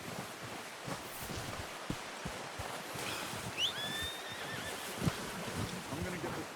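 A horse in the Red Dead Redemption 2 video game gives a short, bright whinny midway through, over quiet outdoor rustling, soft hoof and gear knocks, and faint ambient noise.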